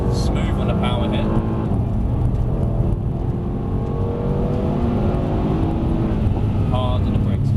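A Mercedes C63s AMG accelerates hard on a track, its engine rising in a loud, steady roar with a deep V8 rumble, while an instructor talks over the engine.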